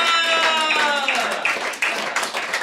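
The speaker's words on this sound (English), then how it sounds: "How about a nice round of applause for my special effects director and the United States of America?" Audience at a living-room variety show breaks into applause, a steady wash of close hand clapping with some cheering voices over it, fading slightly toward the end.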